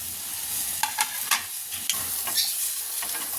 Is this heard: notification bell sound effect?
no